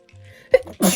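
A single sharp sneeze bursts out after a brief quiet intake of breath, close and loud.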